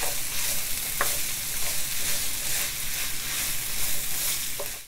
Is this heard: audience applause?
no